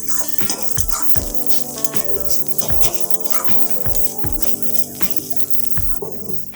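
Papaya laddu mixture, finished with lime juice, is poured and scraped out of a cooking pan, giving a run of close metallic clanks and scrapes in an irregular rhythm, with no talking.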